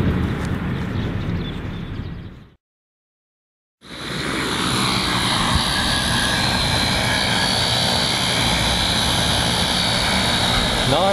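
A Foxtech D130 multirotor drone running new firmware buzzes loudly and steadily in flight, with a brief dropout partway through before the constant whine of its propellers resumes.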